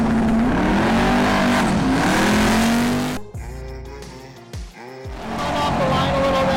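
A Plymouth Road Runner drag car makes a pass at a Sick Summer drag racing event: a loud, rising engine roar holds for about three seconds, then drops away sharply before a quieter engine drone builds again.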